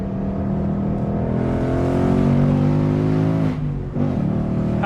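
A 2019 Ford Mustang GT engine drones loud and close with a rich, steady roar, swelling as it revs and then dipping briefly near the end during a drive up a mountain road, with no talking.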